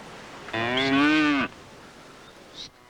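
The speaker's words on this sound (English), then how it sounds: "he's responsible at the moment for looking after cattle with Joseph" A single cow lets out a long, loud moo lasting about a second, close by and alone over faint background noise on a farm in Kenya.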